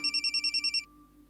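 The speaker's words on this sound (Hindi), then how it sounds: "शांता ही फोन कर रही है।" A phone rings for an incoming call with a rapid series of eight electronic trill pulses, clear and close, then stops into quiet room tone.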